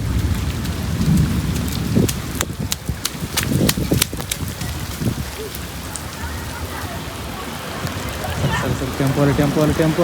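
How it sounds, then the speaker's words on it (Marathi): Heavy unseasonal rain pours onto a shed roof over parked cars, a loud continuous downpour with sharp drumming hits and low thunder rumbles, while voices are heard faintly in the background. "याला म्हणतात पाऊस."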